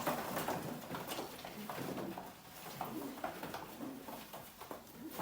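Arabian breed pigeons in a loft give faint, scattered cooing and soft fluttering, with light pattering movement in the background.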